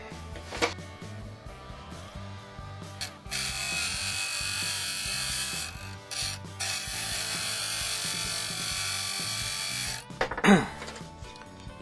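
A power grinder works steel penny washers down to shape during a caravan roof skylight repair, with a sustained harsh whine that drops out briefly and returns, and a sharp burst near the end.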